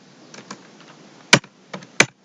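A few sharp computer keyboard keystrokes, including the Enter key, while typing a Java command on a PC: two loud isolated clacks and several softer taps, close and dry, with no talking.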